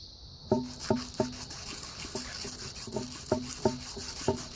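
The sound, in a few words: polishing metal flats with oiled sandpaper in circular motions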